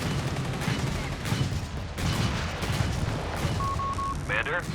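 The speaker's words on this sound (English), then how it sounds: "Got Black Dragon artillery there." Black Dragon artillery shells from the real-time strategy game Company of Heroes 3 thud in a series of muffled booms, spread unevenly across several seconds under steady battlefield noise, with a brief electronic chirp near the end.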